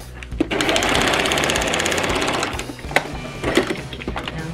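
Sewing machine stitching along a coat sleeve being shortened: a steady, close, loud mechanical whir with rapid needle chatter running almost the whole time, easing near the end into a few separate knocks and clicks.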